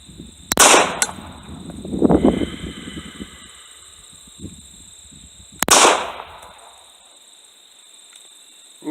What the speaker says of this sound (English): So let's take these next 2 shots.